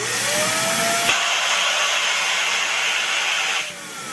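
A vacuum pump drawing down a homemade vacuum chamber sealed with tape around a balloon, a loud harsh motorized whine and roar that runs steadily, shifts tone after a sharp click, then drops away near the end.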